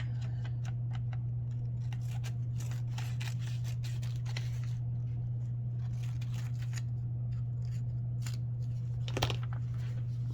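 Scissors snip through paper being trimmed for a work planner, a scattering of short, crisp cuts over a steady low hum, close and fairly quiet.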